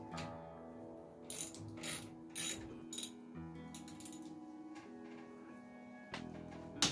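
Ratchet working an exhaust manifold bolt loose on a C3 Corvette pace car, several faint, brief clicking bursts in a quiet garage, sporadic and spaced out over a low steady hum.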